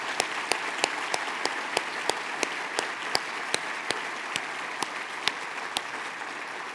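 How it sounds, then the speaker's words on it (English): Applause from a crowd at a university chancellor's luncheon honoring distinguished alumni, a steady, moderately distant clatter of many hands with regularly spaced sharper claps standing out. "Let's give all four of them one more round of applause."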